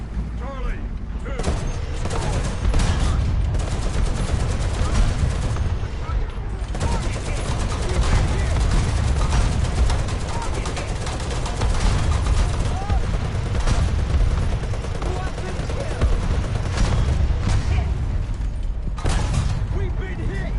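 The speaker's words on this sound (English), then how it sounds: "Artillery strike." Artillery strike in the tank game War Thunder, a loud continuous barrage of overlapping gunfire and explosions with mechanical clatter, sustained throughout with brief dips.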